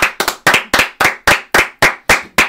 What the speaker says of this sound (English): Can we give a round of applause to Yordan Alvarez?